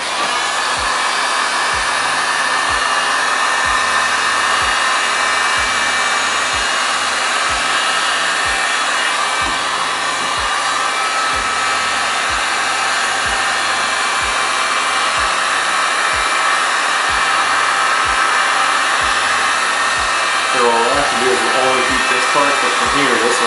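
A heat gun heats Arlon print vinyl wrap film, blowing a loud, steady roaring whoosh close by for the whole stretch, with light clicks and a brief voice near the end.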